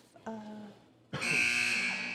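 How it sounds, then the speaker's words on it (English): Basketball buzzer in a gymnasium during a girls' varsity semi-final, one short tone and then a longer loud, harsh blast, with a commentator talking nearby. "And there's the buzzer"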